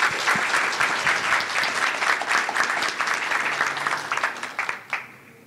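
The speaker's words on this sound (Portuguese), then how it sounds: "A salva de palmas, pessoal." An audience at a programming talk claps, dense continuous applause at close range that holds steady for several seconds, then thins into scattered claps and fades out.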